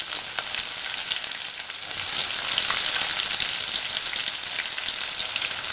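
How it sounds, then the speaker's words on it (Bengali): Bay leaf, whole garam masala, dry red chili and onions frying in mustard oil for prawn malai curry, a loud, dense crackling sizzle that swells and holds steady, close up. "ওই তেলেই আমি এবার তেজপাতা, গোটা গরম মশলা আর শুকনো লঙ্কাটা দিয়ে দেব।"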